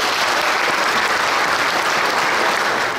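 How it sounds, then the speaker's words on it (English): A tournament audience at a lure-fishing event claps for the marshals, a loud, uniform burst of many hands lasting about three seconds, with no voices on top. "I would like to give them a big round of applause for their efforts in this tournament"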